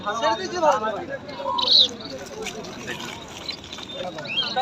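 Pigeons and other birds at an open-air bird market give soft coos and short chirps, a few brief calls rising over crowd noise and nearby talking voices.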